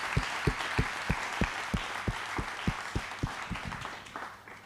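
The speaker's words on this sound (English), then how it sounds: "Round of applause, ladies and gentlemen." Audience applause at a township entrepreneurship talk, a steady run of sharp claps that slowly thins out and fades over a few seconds.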